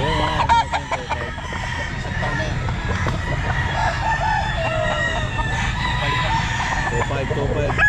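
Stag roosters at a busy pet market in Pangasinan, several crowing and clucking close by over dense crowd murmur, with people talking throughout.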